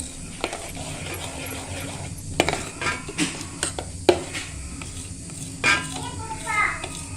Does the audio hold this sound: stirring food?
yes